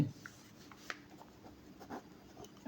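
Pen scratching across paper while writing out a math problem, soft intermittent strokes and small taps, close but faint, with no talk.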